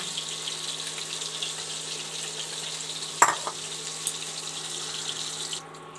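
Fish frying in hot oil, a steady bright hissing sizzle with a couple of clanks from turning or lifting pieces, fading slightly at the end, no talk.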